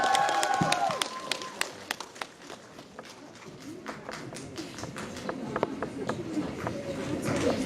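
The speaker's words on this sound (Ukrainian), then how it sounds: "Ваші оплески." Audience applause at a village day celebration, a scattered burst of clapping with a few sharp claps standing out, heard alongside crowd bustle and footsteps over the full stretch.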